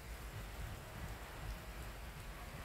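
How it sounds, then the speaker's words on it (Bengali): Steady rain patters on the tin roof of a house, a dense, even hiss of drops with a faint low rumble beneath and no voices. "বৃষ্টির যে একটা শব্দ"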